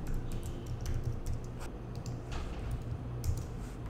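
Rapid, fairly soft keystrokes on a computer keyboard as code is entered, an even run of close clicks over a low background rumble, with no talking.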